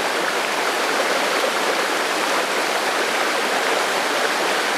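Mountain brook cascading over rocks at Kinsman and Rocky Glen Falls in New Hampshire, a steady, loud broadband rush of water heard close, continuous and unbroken with no voices.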